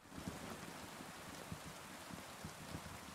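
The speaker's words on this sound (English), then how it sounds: "It's really pouring now." Heavy rain pouring down, a faint, dense, continuous hiss with scattered soft drop impacts and no voices.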